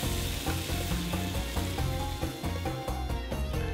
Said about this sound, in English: The rice has been washed and added to the pot and slightly fried.